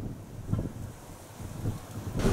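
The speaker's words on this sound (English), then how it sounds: "it's getting quite breezy now" Wind gusts across the microphone on an open hillside footpath in the White Peak area of the Peak District, a close, muffled low buffeting in several uneven surges that grows louder toward the end.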